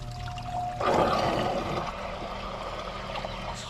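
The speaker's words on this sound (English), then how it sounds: "The water in the meter is draining down." Water draining down inside a flooded water meter pit, a gurgling trickle that starts suddenly after a faint tone and keeps flowing and burbling close by, gradually easing.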